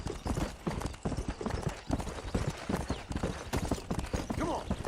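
Horse hooves clip-clop at a brisk, steady gallop as a rider travels in Red Dead Redemption on PlayStation 3, loud, close and continuous throughout.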